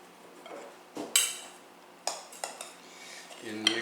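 A spoon clinks against a bowl as potatoes are added to bread dough of flour, several sharp close clinks and knocks spaced irregularly over a quiet room.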